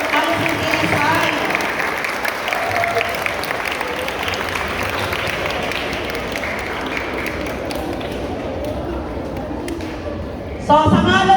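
Audience applause at a school turnover ceremony at Rosauro Almario Elementary School, sustained and fairly dense clapping from a crowd of staff and pupils across most of the span before it fades and a voice cuts in at the end.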